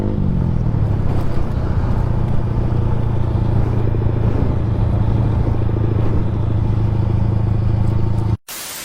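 A modified TVS Apache RTR 4V motorcycle engine runs steadily nearby with a loud, throaty, even rumble and light mechanical clatter, cutting off abruptly near the end.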